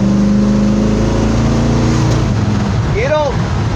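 Truck engine working through downshifts with a B&M truck shifter, a loud, steady low drone inside the cab that shifts pitch as gears change, with a quick rising-falling rev near the end.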